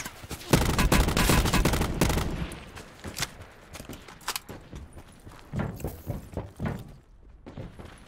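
Gunfire from the battle royale game Call of Duty Blackout: dense overlapping bursts for the first two seconds, then scattered single shots and short volleys at varying distances.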